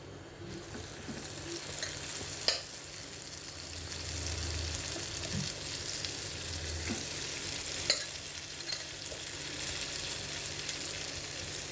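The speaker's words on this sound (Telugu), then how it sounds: "ఇప్పుడు పచ్చడి వేసేస్తున్నాను." Raw tamarind chutney tipped into a pan on a switched-off stove and stirred, a soft continuous sizzle with faint scraping and a couple of small clicks, no talking.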